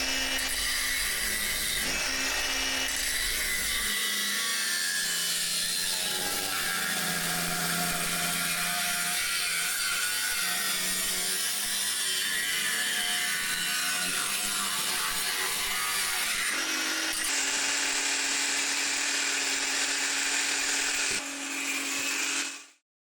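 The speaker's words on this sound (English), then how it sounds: "where I need to trim the new pan, and you can see that's exactly what I'm doing here" Tools trim a new fibreglass floor pan for a rusty 1978 C3 Corvette, a loud continuous grinding and rasping that holds for over twenty seconds, with brief shifts in pitch, and no talking.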